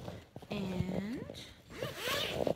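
A backpack compartment zipper pulled open in a couple of close, buzzing zips, with a person talking over and around it.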